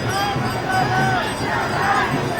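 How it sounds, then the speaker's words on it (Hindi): A dense crowd roars and chants at Amit Shah's road show in Purnia, Bihar, with a sustained wash of overlapping voices and shouts that swells in places, heard up close and filling the whole stretch. "युवा मोदी मोदी के जयकारे कर रहे हैं।"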